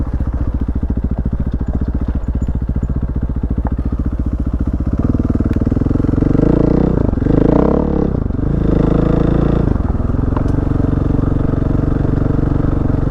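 A motorcycle passes close by, its engine note loud and steady at first, then swelling and shifting in pitch as it goes past, with a rough rumble throughout and no talking.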